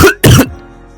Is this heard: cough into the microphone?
yes